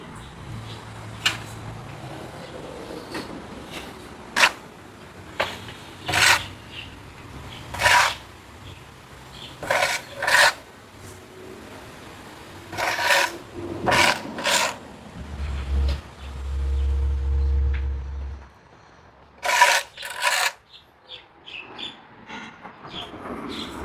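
A sand-cement mix is scraped smooth in a thick steel hand brick mold. Short gritty strokes come in irregular bursts, with a low rumble partway through.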